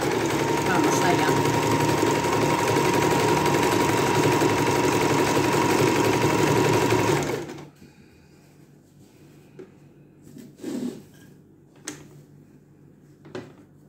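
A sewing machine stitches one piece of fabric onto another in a loud, steady whirring run for about seven seconds, then stops, leaving soft handling sounds and a few thumps.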